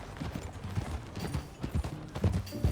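Horse hooves in Red Dead Redemption 2 clop in a loose, uneven rhythm at a trotting pace, fairly close and moderately quiet, with a faint background hum.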